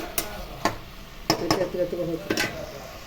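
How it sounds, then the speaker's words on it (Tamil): Vegetables sautéing with asafoetida in a pan, with several sharp utensil clinks and scrapes over a low sizzle, close by, and a voice briefly heard. "காய் நல்லா வதங்கிடுச்சு."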